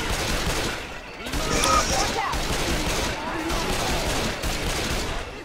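Repeated sniper rifle shots in the video game Left 4 Dead 2, loud blasts spaced about a second apart within dense game noise, with players talking in the background.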